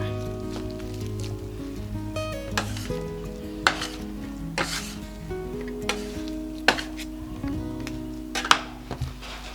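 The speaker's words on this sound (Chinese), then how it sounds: "把无盐黄油和面团一起撕碎，" Bread dough being torn apart and kneaded together with unsalted butter makes wet, sticky squelching rips in irregular bursts, close up over soft background music.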